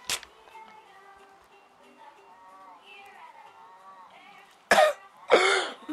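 Two sharp, loud coughs near the end, following a stretch of quiet murmuring voices.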